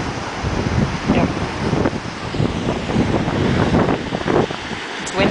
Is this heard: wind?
yes